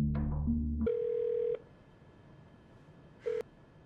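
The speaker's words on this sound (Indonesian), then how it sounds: "saat nomor telepon untuk ikut pertandingan yang Seong berikan diangkat oleh seorang wanita" A telephone number is dialed in a film scene: several clear keypad tones in quick succession, then a pause and one final short beep, with no voices.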